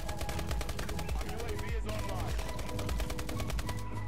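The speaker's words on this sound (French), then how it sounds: "le mec il a au moins 350 balles dans son chargeur, il a une batteuse" Sustained automatic fire from a machine gun in the video game Call of Duty: Advanced Warfare, a rapid unbroken stream of shots layered over game music and effects.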